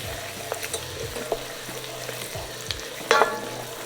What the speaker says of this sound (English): now we're gonna add our garlic cloves